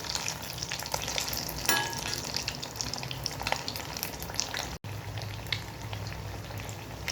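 Fish coated in lentil powder frying in oil in a pan over lowered gas, giving a steady, close, dense sizzle with light crackle throughout and one very brief drop near the end.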